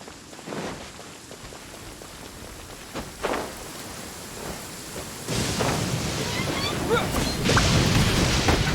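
Thunderstorm with rain in the video game Genshin Impact: a steady hiss of rainfall with several thunder cracks and rumbles, building to a heavier, louder downpour in the second half.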